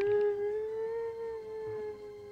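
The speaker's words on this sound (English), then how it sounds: "I think my dog's having a hissy fit." Pet dog howling indoors, one long sustained tonal howl that holds a steady pitch, close and clear.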